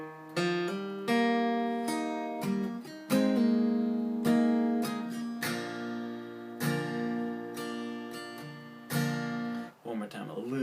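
A guitar plays the opening lick of a song slowly and alone, with a series of clearly picked, ringing notes and chords, close and moderately soft, ending in a brief muted scrape.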